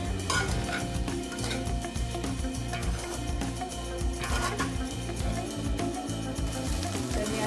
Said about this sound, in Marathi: असे जरा वेळ आपण परतून घेऊया